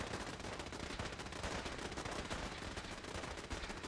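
Rapid, continuous weapon fire crackles in Fallout 4, a dense, steady stream of sharp shots that sounds more like automatic gunfire than a distinct laser tone, moderately loud and with no talk.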